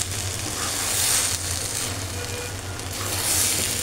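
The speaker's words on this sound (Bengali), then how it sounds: "চালটাকে আগে ভাজা নিতেছি।" Raw rice for chicken biryani fries in a pan, producing a continuous, moderately loud sizzle and faint stirring over a low background hum, with no talking.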